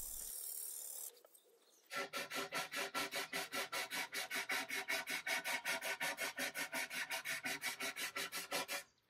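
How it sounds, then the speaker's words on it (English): Steady back-and-forth rasping of sandpaper on a wood veneer table by hand, dozens of even, rhythmic strokes close up after a brief quiet start. "I did all the sanding by hand."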